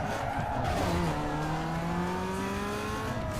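A car in Need for Speed Underground 2 brakes hard with a loud, continuous tire screech and skid over a droning engine, the squeal sliding in pitch throughout.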